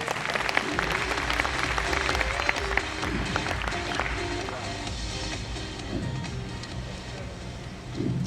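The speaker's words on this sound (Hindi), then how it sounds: "हाँ बजा सकते हो यार ताली।" An audience at a distributor training programme breaks into loud, sustained applause, dense clapping that gradually thins out over several seconds, with some voices mixed in.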